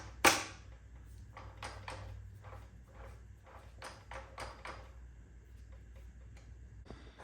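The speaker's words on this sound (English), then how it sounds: "Some of that creaking is this transmission jack." After a sharp metallic clank, a transmission jack gives a series of short, dry creaks and ticks, repeating irregularly, faint and close, like strained metal shifting under load.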